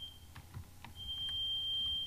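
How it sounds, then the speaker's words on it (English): A Minecraft alarm sounds with a steady high-pitched electronic beep that starts softly, cuts out, then returns as one long sustained tone, fairly quiet and alone. "Yeah, and there goes the alarm."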